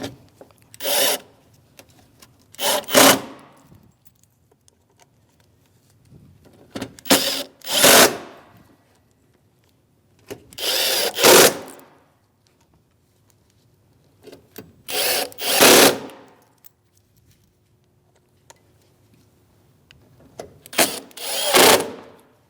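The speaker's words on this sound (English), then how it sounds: "Now we can put our mounting screws in. This is for a T15 Torx bit." A power driver spins T15 Torx mounting screws into a daytime running lamp assembly on a 2016-2025 Chevrolet Malibu, giving about six short loud bursts in pairs separated by quiet pauses.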